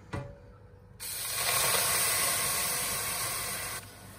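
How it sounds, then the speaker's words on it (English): Steam hisses into a hot oven for baking sourdough bread, a steady broad spray that starts abruptly after a brief clunk, holds loud and even for about three seconds, then cuts off. "Add your steam."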